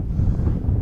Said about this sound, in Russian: Вот такой ветрище просто обдувает, ребята.